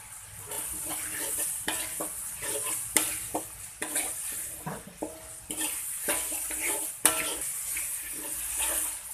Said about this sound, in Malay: Gaul semua sebagi sebati.